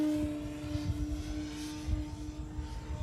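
A 3D foam RC airplane makes a fast speed pass overhead, its electric motor and propeller giving a steady buzzing drone that swells and fades slightly as it passes, heard alone at moderate distance.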